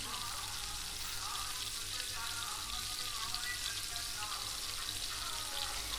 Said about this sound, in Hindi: इन सब मसाला जात को डालकर आप अच्छी तरह मसाले को भून लें।